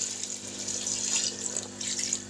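Water pours steadily into a pan of frying chicken and tinda curry, a continuous gushing splash lasting a couple of seconds, close and moderately loud, with no talking.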